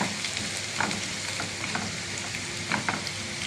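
Garlic frying in a pan for a Malayalam lentil and taro curry, a steady dense sizzle with occasional louder crackles and faint stirring clicks, close and continuous with no voices.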